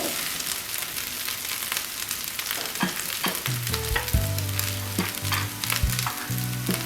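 Ground spice paste fries in hot oil for fish cooking, giving a steady close sizzle with soft crackles and a few scraping stirs and utensil knocks near the end.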